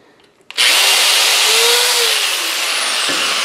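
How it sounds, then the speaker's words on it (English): A dull 1/8 inch drill bit bores into a part for a whirligig hub, starting abruptly with a loud, steady whine that drones on alone and sags slightly in pitch toward the end. "that must be the dullest 1/8 inch drill bit in the history of man"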